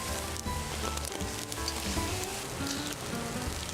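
Steady, loud sizzling of eel cooking on a hot grill, a continuous crackle and hiss with scattered pops throughout.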